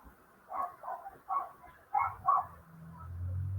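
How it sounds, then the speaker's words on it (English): A few quick dog barks in a short irregular burst, moderately close, followed by a low rumbling hum. "I was suggesting barking because I heard a dog barking."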